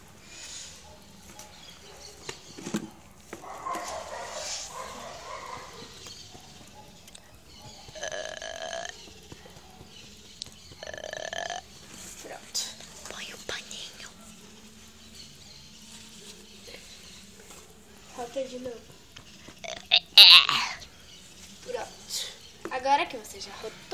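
A baby burps after an afternoon snack, a few short gurgling belches scattered among soft rustling and handling noises, close by, with an adult speaking at intervals.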